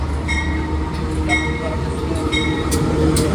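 KA Motis passenger train arriving at Kroya station in Indonesia, a steady loud rumble of rolling rail cars with faint high squeals and brief metallic clanks throughout, a voice murmuring faintly in the background.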